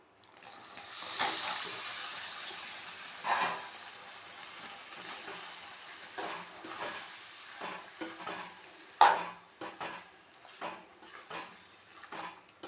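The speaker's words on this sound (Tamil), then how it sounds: "இப்போ நம்ம வந்து இந்த மாங்காவை கொட்டிடலாம்" Raw mango pieces tumble into a homemade mango pickle mixture with urad dal and are stirred, giving close scraping and clattering with bright wet crackles and a sharp knock midway, no talk.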